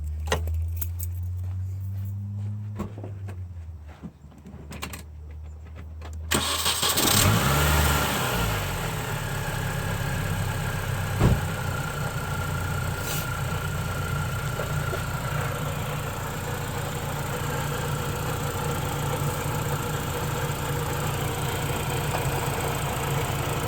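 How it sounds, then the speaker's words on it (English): A 2002-2006 MINI Cooper S R53 with freshly changed spark plugs cranks, catches with a surge, then settles into a steady, smooth idle that continues for about twenty seconds, loud and close with no talking. "So the very last thing to do is to start it up and make sure everything runs properly."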